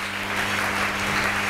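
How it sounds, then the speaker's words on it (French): A church congregation applauds in steady, dense clapping that holds at an even level throughout, with a faint hum underneath and no speech. "Acclamons très fort."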